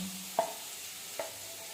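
Green chillies and crushed peanut powder stirred in a frying pan for a spinach dish, a soft steady sizzle with two distinct spatula scrapes against the pan.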